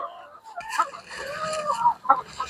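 Layer chickens in a pyramid cage cluck and honk in short bursts at close range, several birds calling over one another in a busy coop.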